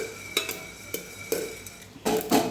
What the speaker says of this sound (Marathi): दोन मिनिट अजून हलवून पण घेऊया आपण